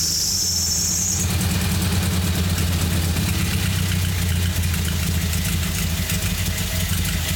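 A Nissan 240SX engine idles roughly with a steady low rumble, loud and close, and a high squeal fades out in the first second.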